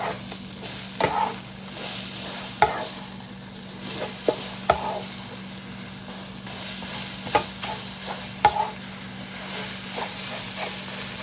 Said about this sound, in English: go ahead and give it a mix